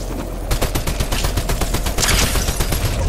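Rapid video game gunfire in Fortnite Chapter 5 Season 4 during a trios cash cup match, loud bursts of repeated shots packed closely together, with a louder volley near the end.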